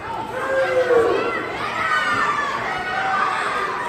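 A crowd at an outdoor beach wrestling event cheers and shouts steadily, with high excited voices, including children, carrying throughout at a fairly loud, sustained level.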